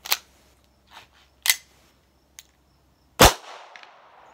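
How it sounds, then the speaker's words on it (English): A .22 GSG Firefly pistol loaded with copper-plated hollow point rounds gives a few light clicks and snaps, then one sharp loud shot near the end with a short ringing tail. "I got 10 of those copper-plated hollow points loaded up, and I'm going to try to run those through"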